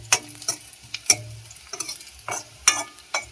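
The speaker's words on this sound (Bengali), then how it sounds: "লাল লাল করে ভালো করে ভেজে নেব রসুন আর পেঁয়াজটা" Garlic and onion fry in a pan, browning until reddish, with a soft sizzle under sharp, irregular scraping and clinking strokes as a utensil stirs them, close and clear.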